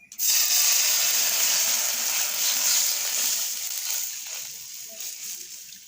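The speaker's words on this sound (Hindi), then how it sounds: "पैन में हम पानी ऐड करेंगे।" Water is poured into a cooking pan ahead of boiling egg noodles, a bright rushing splash and hiss that starts abruptly, runs strongly for a few seconds, then thins out toward the end.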